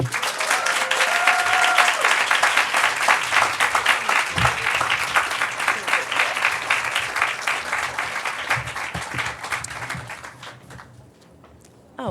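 A conference audience at a university climate week kickoff breaks into sustained applause for Shalonda Baker, loud dense clapping that gradually thins and fades near the end.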